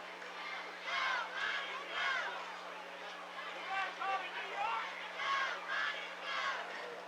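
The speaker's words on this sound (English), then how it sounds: "Good comment from the crowd." Spectators at a high school football game, Malvern against Bauxite, raise a loud collective shout and cheer in repeated swelling bursts, a dense mass of voices with no single speaker standing out.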